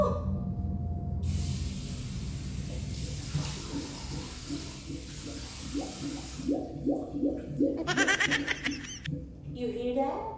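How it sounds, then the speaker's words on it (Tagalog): A toilet bowl gurgling and bubbling as a neighbour's plumbing is used, first a steady rush of water, then a run of close, wet glugging bubbles, with people talking and chuckling over it. "Kumukulo na naman ang bowl. Every time may gumagamit sa kabila, it's making"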